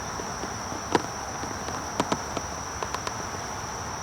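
Honey bees, a pile of nurse bees gathered for a mite test, give off a faint, steady buzzing hum, with scattered soft ticks and taps throughout.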